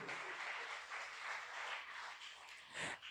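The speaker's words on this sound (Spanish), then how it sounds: "Dale fuerte el aplauso a Dios" Applause from a church congregation during a service, a broad sustained wash of clapping at moderate distance that swells briefly near the end.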